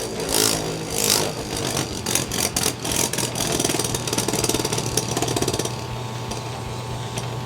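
A Hasbro Beyblade X Driger S spinning top whirs on its test spin, a steady close mechanical buzz broken by sharp rattling clacks in the opening seconds, with no voices over it.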